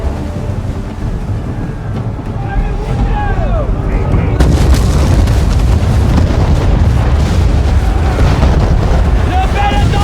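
Cannon fire booms during a naval battle between sailing ships in Assassin's Creed 3, heavy and continuous over roaring wind and water noise, the rumble growing denser partway through.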